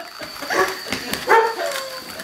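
Dogs given cooked goose let out short yips, whimpers and small barks up close, in two brief bursts.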